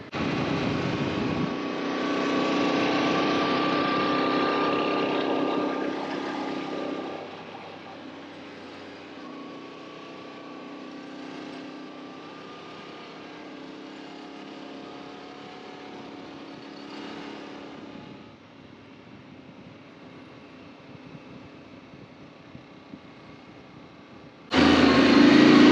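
A 2024 Yamaha Tenere 700 motorcycle being ridden, engine loud and revving at first, then dropping to a lower steady drone heard from a distance, ending in a sudden loud burst.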